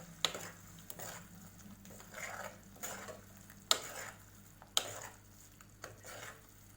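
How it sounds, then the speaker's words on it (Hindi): A spoon stirs turmeric, chili and masala through a thick gravy in a pan, giving soft repeated scraping strokes with a few sharper clinks against the metal, fairly quiet and heard alone. "इसको हमें अच्छे से मिक्स कर देना है।"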